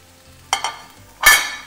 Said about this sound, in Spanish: para poder sofreír todos estos bellos vegetales